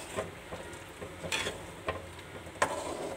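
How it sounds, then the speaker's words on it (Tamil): A pan of jaggery syrup bubbles and sizzles softly at a steady rate, with a few sharp scraping stirs of a spoon against the metal. "இந்த மாதிரி நல்லா கொதிக்கிட்டு இந்த வெல்லம் வந்து கரையணும்"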